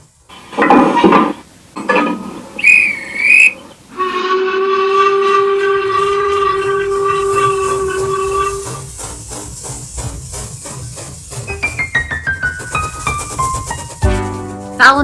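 A steam engine hauling goods wagons sounds a long, loud whistle, followed by clanking and rhythmic puffing as it moves down the line.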